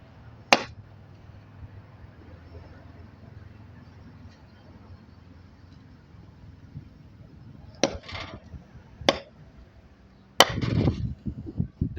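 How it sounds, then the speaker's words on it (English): Sharp, hollow knocks strike the ground over a hollow spot a few times with long quiet gaps, the last one followed by a brief scuffing rumble. "That's the sound of there being a hollow point underneath."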